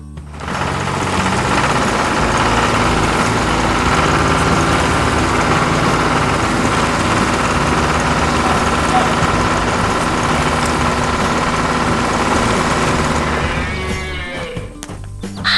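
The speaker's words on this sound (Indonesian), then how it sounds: "mesin konstruksi kuning sedang bekerja dengan penuh semangat" An animated yellow construction machine runs its engine continuously, a loud, dense mechanical rumble and clatter that lasts for the whole stretch, then cuts off near the end.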